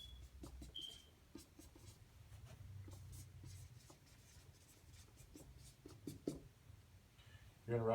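A pen scratches across paper while a check is filled out, faint scribbling strokes close to the microphone at low volume, with a couple of louder taps and a rustle near the end.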